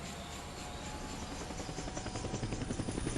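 A helicopter approaches in the Dead Rising video game, a steady whirring rotor roar that builds into a more distinct rapid chopping pulse toward the end, with no talk over it.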